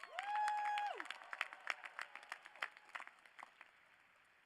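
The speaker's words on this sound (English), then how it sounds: "Let's give them another big round of applause." A commencement audience at Cal Poly claps for faculty and staff, loose scattered applause that thins and fades over a few seconds after a brief electronic tone at the start.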